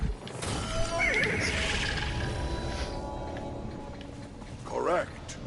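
A horse whinnies amid game-like ambience in Destiny 2, with a second shorter neigh near the end; no clear talking over it.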